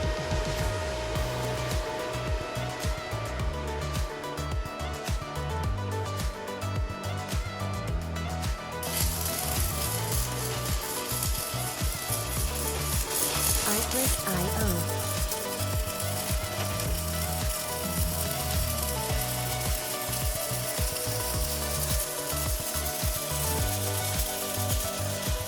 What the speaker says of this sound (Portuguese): aqui já terminei a solda, soldei aqui nessa linha e desse lado também